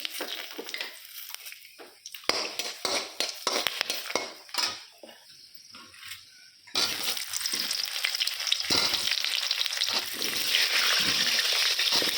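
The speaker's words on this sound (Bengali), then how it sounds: "পেঁয়াজটা হালকা ভাজা হয়ে আছে" Oil sizzling loudly in a pan as onions fry, with scraping stirs and clinks of a utensil, the hiss growing steadier toward the end.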